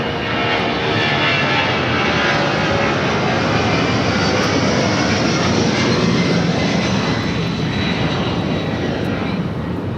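Boeing 757-200 sports charter jet at Los Angeles International Airport, its engines producing a loud, steady broadband roar that fills the whole stretch without letup.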